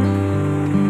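Steady rain falls with a dense, constant hiss and a low hum underneath, no distinct thunder crack in this brief stretch.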